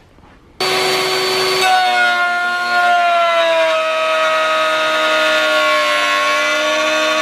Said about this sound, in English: We can do that on the table router.